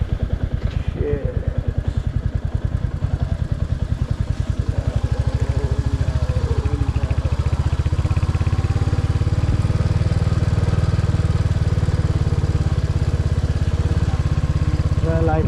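A motorcycle riding along a dirt path, its engine chugging with a steady rapid pulse near the mic and shifting to a deeper, fuller drone partway through. Voices talk over the engine.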